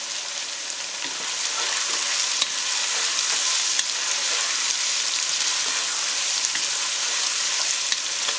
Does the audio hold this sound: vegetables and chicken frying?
yes